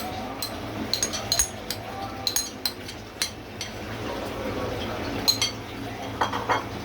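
A spoon stirs fried onions and cumin paste in a pot, sending out light, irregular metallic clinks and scrapes over a soft, steady background hiss.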